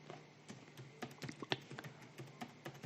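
Fast, light clicking of keys on a computer keyboard, irregular taps and clacks in quick bursts, close and fairly quiet, with no speech.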